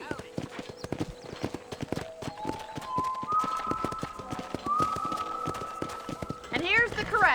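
Hooves clip-clop in a quick, even rhythm as a horse is ridden in Red Dead Redemption, close and continuous, with rising tonal game sounds and a whinny near the end, under speech.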